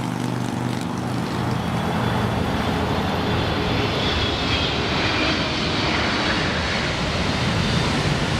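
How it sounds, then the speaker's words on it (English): An Ethiopian cargo plane landing at Miami International Airport in wind, its engines making a steady loud roar that continues without a break. "an Ethiopian cargo plane was set to land at Miami International"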